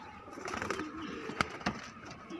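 Madrasi pigeons coo softly nearby, a few low rolling calls with a couple of sharp flutters or taps in between, quiet and brief.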